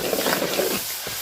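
Hot spiced tempering (tadka) is poured into a pot of mustard greens saag, giving a loud close sizzle and hiss with stirring that fades after about a second.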